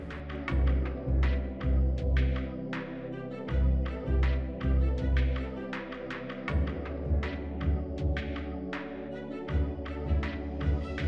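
A sewing machine stitches together pieces of two-tone doll pants for a ball-jointed doll. The rhythmic, throbbing mechanical whir runs in short bursts with brief pauses as the fabric is fed through, steady and fairly quiet, with no talking.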